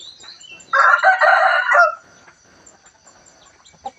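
A rooster crows once, loud and near, a single drawn-out call of about a second outdoors after rain, followed by quiet with faint chicken clucks and a brief knock.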